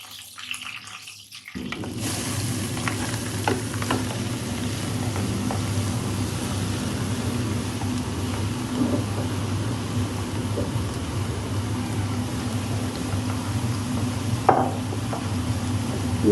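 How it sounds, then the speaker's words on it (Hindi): Green cardamom pods frying in hot ghee for carrot halwa give a steady, close sizzling hiss that starts abruptly after a short quiet opening, with a low hum underneath and a few faint clicks. "ये घी हमारा गर्म हो गया है, अब हम इसमें हरी इलायचियाँ डालेंगे।"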